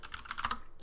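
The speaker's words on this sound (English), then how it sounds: "I'm typing over on the other side here." Soft, steady keystrokes on a computer keyboard patter quickly and evenly, fairly quiet and slightly distant, with no voices.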